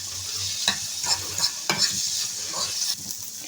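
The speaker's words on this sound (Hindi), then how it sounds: "इसको हमने हल्का सा फ्राई कर लेना है, बस ये ज़रा सी सॉफ्ट हो जाए" Chillies frying in a pan while being stirred, a steady close sizzle broken by repeated scraping strokes of a utensil against the pan, with no voices.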